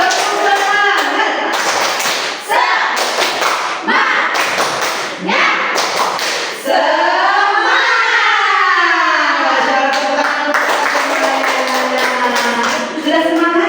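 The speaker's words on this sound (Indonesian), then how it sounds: "tepuk semangat, tepuk semangat" A class of students and their teacher doing the rhythmic Indonesian 'tepuk semangat' spirit clap, with loud patterned claps and thumps alternating with group chanting voices and a long rising-and-falling vocal shout in the middle.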